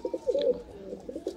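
Soft, low pigeon cooing in a few rolling phrases, close by, with faint chirps and no talking.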